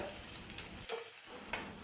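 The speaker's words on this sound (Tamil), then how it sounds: "வெங்காயம் நல்லா வதங்கட்டுங்க." Steady, soft sizzling of onions and garlic sautéing in a pan, continuous and close, with a faint stir or scrape partway through.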